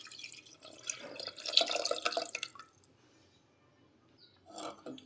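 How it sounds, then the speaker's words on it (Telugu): Tamarind water poured into a pan on a medium flame while making pepper rasam, a splashing liquid pour for about three seconds, then quiet and a short second splash near the end. "ఇప్పుడు మనం ముందుగా ప్రిపేర్ చేసుకుని పెట్టుకున్న చింతపండు వాటరు దీనిలోకి యాడ్ చేయాలండి"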